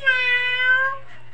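A cat gives one clear, drawn-out meow up close, tonal and wavering, then falls quiet.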